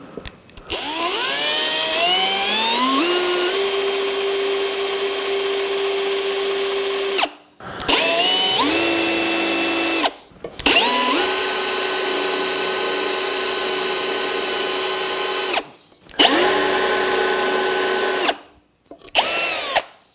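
Loud power drill drilling a hole, whirring in long bursts, motor pitch climbing as it spins up, stopping briefly between runs before starting again.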